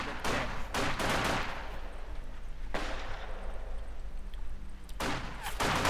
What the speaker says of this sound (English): Firing away there at the bunker.